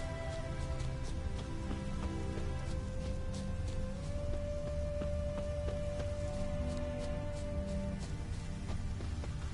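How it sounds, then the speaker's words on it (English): Rain in the video game The Witcher 3, a steady hiss of falling rain and scattered drop ticks over a low ambient bed, with a sustained tonal hum running through the middle. "Looks like rain."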